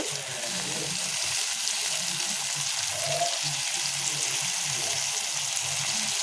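Prawns sizzling in hot oil with browned ginger, a steady loud crackling hiss throughout with soft clinks of stirring, no talk.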